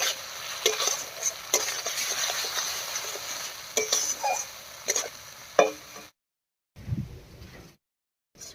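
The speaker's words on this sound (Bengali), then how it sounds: "মশলা কষিয়ে তেল ছেড়ে দিয়েছি এবারে দেব লবণ আর হলুদ আরেকবার ভালো করে মিশিয়ে নেবে" Fried spice paste being stirred with salt and turmeric for a vegetarian moong dal with pointed gourd, close spatula scrapes and light clinks over a soft sizzle, with a short silent gap and a final stir toward the end.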